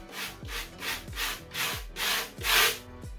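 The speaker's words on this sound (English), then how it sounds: "I come in with my small rougher again, and I'm going to texture out all these muscle grooves down the front." Small rougher rasping grooves into a whitetail doe taxidermy form, about six rhythmic close strokes, each a rough scratchy rub, growing slightly louder toward the end.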